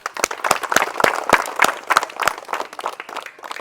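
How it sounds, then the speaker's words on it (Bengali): A live audience at a local game show claps steadily, a dense burst of hand claps with sharp individual slaps standing out, sustained and fairly loud for several seconds. "আর একবার কড়া তালি হয়ে যাক"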